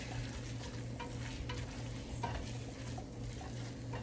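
Garlic cloves sauté in a soup pot as they are stirred in, making a soft, steady sizzle with occasional light crackles and faint scraping, fairly quiet and with no talk.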